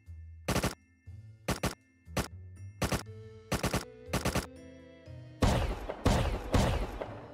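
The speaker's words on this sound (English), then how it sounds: "one dude did fall for the trap, but we do shortly learn that the shotgun trap doesn't work that well" Shotgun traps blasting in the survival video game Rust, a series of about eight sharp, loud gunshot bursts at irregular intervals, followed by denser, heavier firing toward the end.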